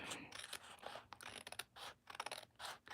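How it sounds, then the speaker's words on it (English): Scissors snipping off the excess from a paper envelope flap in a card-making session, a few quiet crisp cuts with small mechanical clicks and scratches, close and faint, with no speech. "we'll give that a quick fussy cut"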